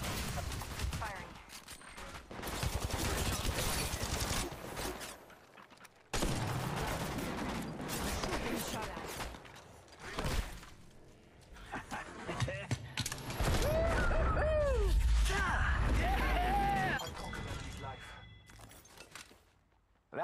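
Gunfire from the Apex Legends Mobile battle royale in Kings Canyon comes in dense rapid bursts and single shots, loud and close, broken by brief pauses and mixed with other game effects and voices.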